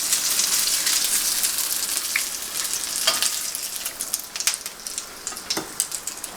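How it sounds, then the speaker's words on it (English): Vegetarian food browning in a pan sizzles and crackles steadily up close, with occasional sharper pops and stirring scrapes and no talk. "Finish frying these."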